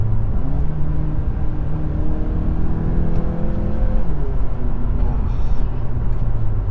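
A 2021 Hyundai Veloster N with a dual-clutch gearbox pulls hard from first gear, engine droning loud and close with rising pitch, then a quick shift drops the revs before it climbs again.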